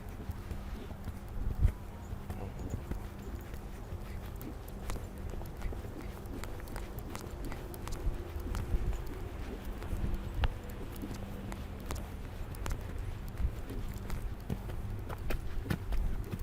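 A fresh, lively horse being lunged beats out a steady run of hoof clip-clops over constant background noise, with faint voices now and then.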